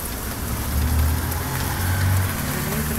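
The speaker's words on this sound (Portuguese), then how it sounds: "voltando a chuva, recomeçando, exatamente agora" Rain starting up again outside a window in São Vicente, a steady hiss of falling drops, close and fairly loud, with a low rumble of distant traffic underneath and no voices.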